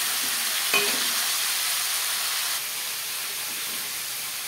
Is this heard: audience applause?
no